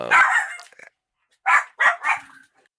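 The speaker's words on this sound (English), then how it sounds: "my apologies, the dogs started going off." Dogs bark nearby, a burst of loud yaps followed by a pause and then three more quick barks, with quiet gaps between.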